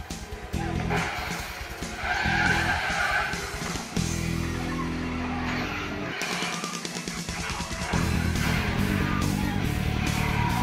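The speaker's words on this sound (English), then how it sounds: "Cue the climactic car chase." Cars skid and tires squeal in a film car chase, loud repeated screeches over roaring engines and dramatic music, with voices breaking in at times.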